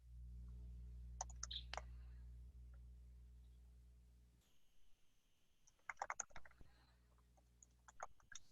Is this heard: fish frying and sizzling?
no